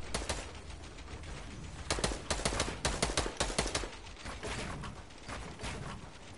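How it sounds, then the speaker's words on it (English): Bursts of automatic gunfire rattle through a console shooter game, with quick clustered shots fading in and out in irregular volleys, fairly close and sharp and continuing throughout without speech. "He's shooting at me."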